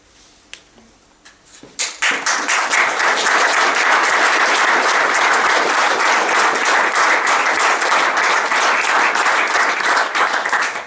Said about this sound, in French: l'applaudissement est narcissique, il fait partie du spectacle de la marchandise